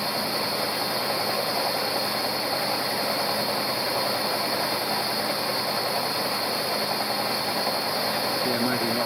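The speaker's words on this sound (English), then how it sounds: "Trying to take a finishing cut here. Just climb milling" Milling machine taking a light finishing climb-milling cut on a metal part, a continuous loud mechanical drone with fine rattling cutter texture, steady and close, with no breaks.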